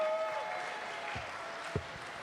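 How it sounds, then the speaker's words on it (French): An audience applauds a singer at an evening musical performance, a soft, spread-out patter of clapping with a couple of brief louder knocks and a faint lingering tone in the room. "vous allez l'applaudir pour l'encourager"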